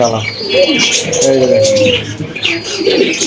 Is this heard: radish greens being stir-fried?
no